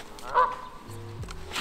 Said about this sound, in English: The geese are our friend this afternoon.